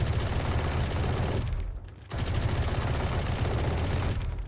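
Automatic hip-fire in the Valorant video game, a weapon winding up into a dense, loud continuous stream of shots that breaks off briefly near the middle before roaring on again.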